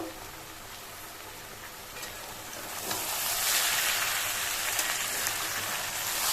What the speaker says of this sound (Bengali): দেখি আলু ভাজাটা কত দূর হলো